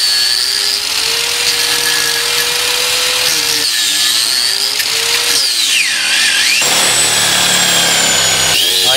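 A power tool cuts through a rubber tire being made into trailer fenders, a loud, continuous whine that wavers and shifts in pitch as the blade bites and the load changes, with no voices.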